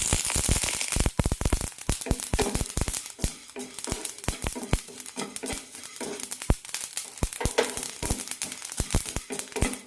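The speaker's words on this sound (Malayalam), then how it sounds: "ഫ്ലെയിം ഓഫ് ചെയ്യാം കടുക് പൊട്ടിത്തീരുന്നവരെ ഒന്ന് വെയിറ്റ് ചെയ്യാം" Mustard seeds pop and crackle in a hot pan for an amla pickle, a dense, steady run of sharp little bursts lasting throughout with no talk.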